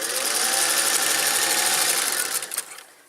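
A sewing machine runs steadily while stitching an apron, a loud, even mechanical whir with rapid needle chatter that carries on for a few seconds before winding down and stopping.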